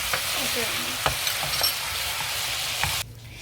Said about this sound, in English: You have to give it a good mix for the veg.